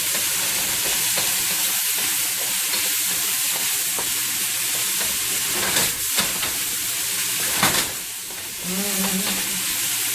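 Diced ham frying loudly in a hot pan for a cheap Chinese-style stir fry, a dense steady sizzle with occasional scraping stirs and short clatters, close and continuous without voices.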